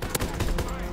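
Bren LMG firing in Call of Duty WWII, a short burst of three or four rapid shots set close together, with some faint game noise underneath.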